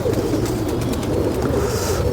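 An aging brownish pigeon coos in soft, low, repeated throaty calls, close and steady, with no speech over it.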